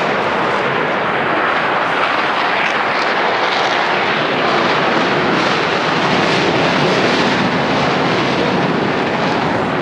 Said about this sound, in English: Beauty of the F-35 from the U.S. Air Force